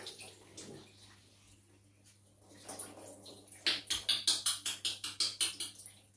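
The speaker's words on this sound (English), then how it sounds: "I will still be pouring some water on it." Water poured by hand over a newborn baby during a traditional African bath, first quiet trickles, then a run of about a dozen rhythmic splashes, close and clear.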